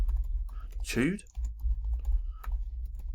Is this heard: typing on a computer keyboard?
yes